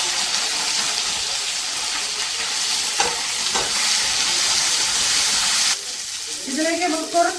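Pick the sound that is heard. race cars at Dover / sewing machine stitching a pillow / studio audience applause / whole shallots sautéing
whole shallots sautéing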